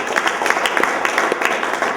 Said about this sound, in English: big round of applause for Urban Dove